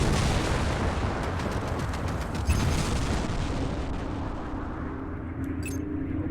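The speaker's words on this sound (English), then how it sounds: "Bring your reticule in line with the target and fire your cannons." Cannons fire in the space combat game Strike Suit Zero, a dense, continuous rumble of rapid blasts and explosions that holds loud throughout, with no voices over it.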